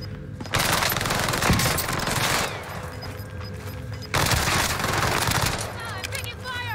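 Rapid automatic gunfire in the Modern Warfare shooter game, two long sustained bursts of loud crackling shots separated by a brief pause, with game sounds mixed in.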